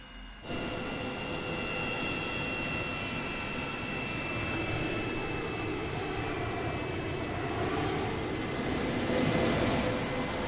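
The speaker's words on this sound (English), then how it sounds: "You can hear that APU working over here." Boeing 727 auxiliary power unit running in a flight simulator game, a steady continuous turbine whine and rumble with a high tonal hum, holding even and loud throughout with no talk.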